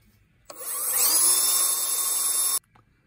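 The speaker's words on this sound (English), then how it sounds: "So we'll drill our holes now." A power drill fitted with a 1-inch self-feed bit bores into a log in one continuous burst of about two seconds, a loud, close whining grind that starts and stops abruptly, with no talking.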